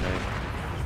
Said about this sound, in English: I didn't waste your grenade, it was an explosive barrel